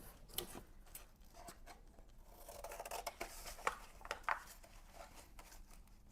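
Scissors cutting paper from a mixed media art journal, quiet rasping snips and rubbing with a few sharper cuts toward the end, close and faint with no talking.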